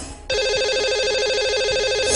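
A telephone rings out on a line while a radio show places a call to a caller, a loud, steady warbling ring tone that starts abruptly after a brief quiet moment and continues without a break.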